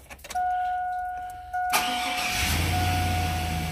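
A 2000-2005 GMC engine fresh from a water pump repair cranks with a steady whirring starter for over a second, then catches and settles into a rumbling idle, close and clear with no talk.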